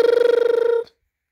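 A telephone ring tone sounds close and loud as a rapid pulsing electronic trill, then cuts off abruptly.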